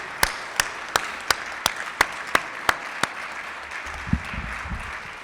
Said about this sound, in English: we should give a round of applause for their Hilton staff